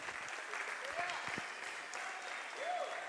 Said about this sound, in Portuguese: Vamos aplaudir essa equipe tremenda aqui,